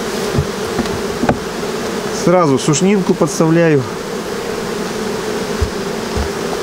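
A busy swarm of honeybees drones steadily around an open hive during a honey harvest, a continuous near buzz under a man's brief speech.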